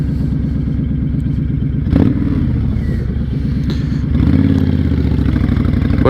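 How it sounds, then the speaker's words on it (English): A 2006 Honda VTX1300 motorcycle engine idles with a steady, deep rumbling pulse close by, rising briefly in a short rev about two seconds in and climbing again near the end. "What a smooth and nice sounding bike."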